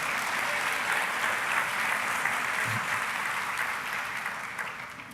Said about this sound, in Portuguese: Aplauda Jesus mais uma vez.